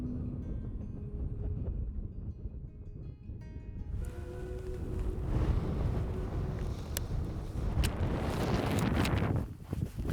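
Strong wind along Highway 395 buffets the microphone in a continuous low roar that grows rougher and gustier partway through.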